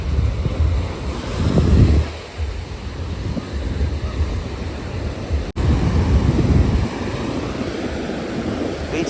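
Waves break on a Goa beach while wind rumbles across the microphone. The surf is loud and steady, swelling in washes, with no one speaking.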